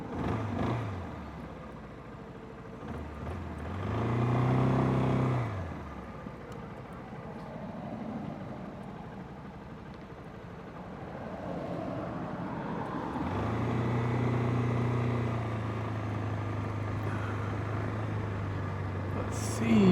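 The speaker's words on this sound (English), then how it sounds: "What you're hearing is the supercharger." A supercharged V8 Hemi car purrs while driving through Tokyo streets, its low engine drone swelling twice under road and traffic noise, with voices faintly present.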